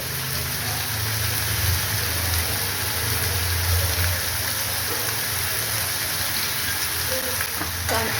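Onion with ginger and garlic fries in a pan, a loud, dense, continuous sizzle close up with occasional stirring scrapes beneath it.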